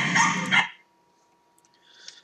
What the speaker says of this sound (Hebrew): הנה עוד פעם הפיטבולים.